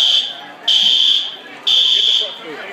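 A building fire alarm goes off during dinner, blaring two loud, piercing electronic tone blasts that each sustain for about a second, close and dominant over faint background noise.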